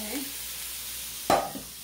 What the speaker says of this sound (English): I'm just going to let this cook a little bit till it gets pink on both sides.